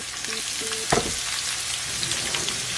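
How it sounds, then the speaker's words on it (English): Diced onions and red pepper frying in about two tablespoons of olive oil in a pan, a steady close sizzle with one sharp clatter as the vegetables drop in, no voices. "I'm going to put about 2 tablespoons of olive oil in the pan and add my onions and red pepper"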